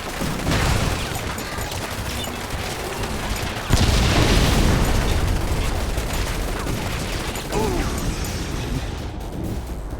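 Weapons fire and explosions from units in the Command & Conquer 3: Tiberium Wars strategy game, a dense continuous barrage of booms and gunfire with a heavy blast near the four-second mark.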